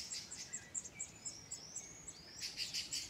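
Sabiá thrush chicks chirp in their nest in Vassouras, Rio de Janeiro, with a series of thin, high, repeated chirps that sound faint and somewhat distant, and no one talks.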